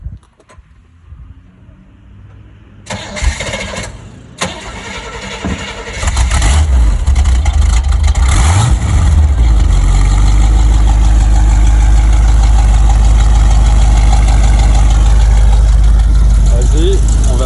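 A car engine cranks and catches after a few seconds of handling noises, then settles into a loud, steady, close idle rumble that runs on to the end, with someone talking over the start.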